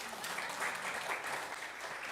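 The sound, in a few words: congregation applause for the pastor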